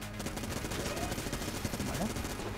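Rapid, continuous Gatling gun fire rattles in a dense stream of shots in the video game Enter the Gungeon, with faint talk partly underneath.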